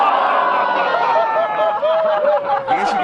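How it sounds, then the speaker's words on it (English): Spectators at a disc golf festival final react to a shot from the tee pad, a dense murmur of voices, laughter and rising exclamations, fairly close and continuous, swelling toward the end. "I guess you can tell from the crowd reaction that that one looked really good from back from the tee pad."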